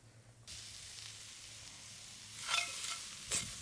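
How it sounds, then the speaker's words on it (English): Onions and leeks dropped into a pan over a campfire, a soft hiss rising into steady sizzling, with two brief louder bursts of stirring and spattering near the end, quiet and close. "we're going to add the onions and the leeks"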